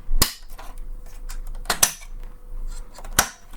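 Three sharp, loud clicks spaced more than a second apart as a UPS circuit board is pressed back into its place, with quiet handling noise between them.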